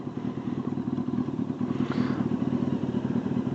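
A motorcycle engine runs while riding, a steady close rumble with rhythmic pulsing and some rattling clatter, no talk.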